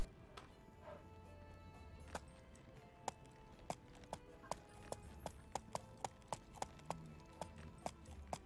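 A horse-drawn wagon rolls along in the medieval game Life is Feudal, its hooves clip-clopping in a steady, fairly quick rhythm of sharp, distinct knocks over a low rumbling background.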